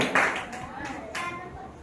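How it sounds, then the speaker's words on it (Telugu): Children clapping hands in a Bible class counting exercise; a few quick separate claps, sharp and near, mixed with a voice speaking. "క్లాప్ కొట్టండి"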